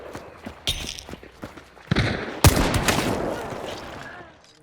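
Close-range hipfire gunshots in the video game Hunt: Showdown, a few sharp loud bangs with clattering impacts, the heaviest burst near the middle followed by a lingering rumbling tail.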